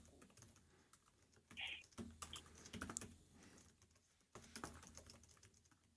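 Keys clatter on a computer keyboard in quick irregular bursts, close and fairly quiet, with short pauses between runs of typing and no voices.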